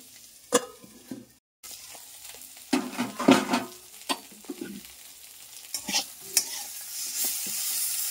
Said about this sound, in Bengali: ওই সজনেটা বেশি ভাজতে নেই, তাহলে খেতে ভালো লাগে না।